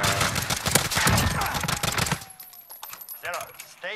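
A Dragunov rifle fires in a shooter video game, with rapid close bursts of loud cracks giving way to sparser, quieter shots and metallic game sounds.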